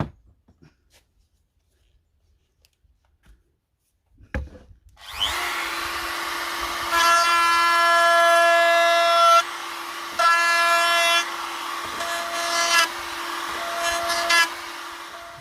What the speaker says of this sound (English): just going to give the edges a chamfer